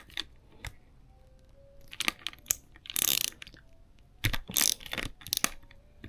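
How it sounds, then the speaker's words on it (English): A size 12 nut being loosened on a Tranx 301B baitcasting fishing reel, heard as quiet close ratcheting clicks and a few short mechanical bursts with pauses between, no talking. "now I have a size 12 nut, and we're gonna loosen this up"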